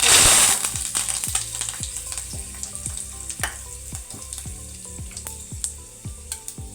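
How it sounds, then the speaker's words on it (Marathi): Mustard seeds and cumin sizzle in hot oil as a tempering for pithla, with steady oil hiss and a dense run of sharp, close popping crackles that start loudest and continue evenly throughout. "मोहरी आणि जिरेची फोडणी छान आता बसलेली आहे"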